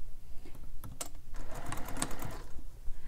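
A sewing machine top stitching a carryall bag at a lengthened stitch, a close rapid rattling whir with uneven clicks and bursts across a few seconds, no talking.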